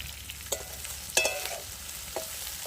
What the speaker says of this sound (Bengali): একটু ভালো করে ভেজে নেবে পেঁয়াজটা